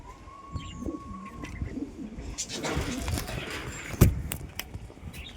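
Domestic pigeons, white fancy breeds, give soft cooing calls close by, with scattered rustles and a sharp knock partway through, amid faint outdoor hum.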